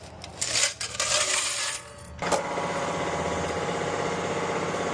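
Quarters clink and rattle as coins are collected from a self-serve car wash bay, a busy metallic jingle in the first two seconds, then a steady mechanical hum of the coin machine or nearby equipment.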